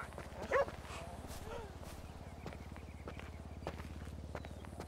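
A dog barks and yips in a Grand Theft Auto game scene, one sharp loud bark near the start followed by softer whimpers and footsteps over a low, rhythmic background hum.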